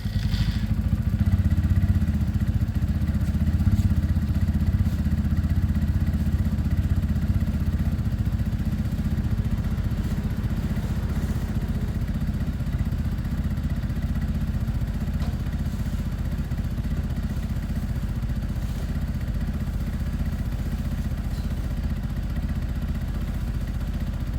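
A fuel-injected Sinnis Outlaw motorcycle idles while warming up on its automatic choke, a smooth, steady low rumble with a faint mechanical clatter, close and unbroken.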